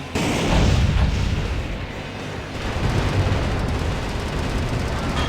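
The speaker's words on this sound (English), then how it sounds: "I gotta liberate the POWs with my assault rifle" Assault rifle fire in Metal Wolf Chaos XD comes as a sustained, loud barrage of booming shots and blasts, heavy and continuous from start to end.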